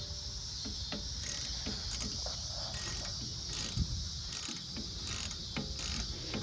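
Open-end wrench tightening the top rear brake bolt on a Lexus RX during a pad change: a close, rapid clicking ratchet-like chatter in short repeated bursts against a steady background hiss.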